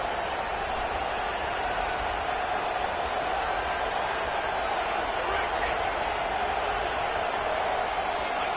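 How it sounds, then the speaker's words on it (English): A loud football stadium crowd roars steadily at a fourth-down play, a dense, constant wash of noise with no breaks, heard alongside talk. "The crowd is loud"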